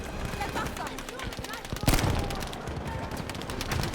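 Rapid video-game gunfire from a heavily spammed, server-banned gun in a Thai shooter match, dense bursts running throughout with one louder blast near the middle, under faint background game noise.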